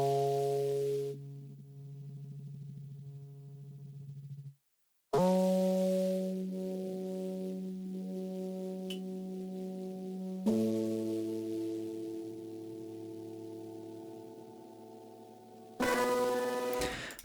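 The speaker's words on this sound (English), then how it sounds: "It's the main piano sound is one I use a lot in this track, which is Lab's soft piano." Labs Soft Piano sustains chords through a pitch-tracking vocoder effects rack, giving a buzzy, harmonic-rich electronic tone; several held chord sections change in turn with a brief silence near five seconds, no talking.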